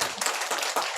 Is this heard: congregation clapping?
yes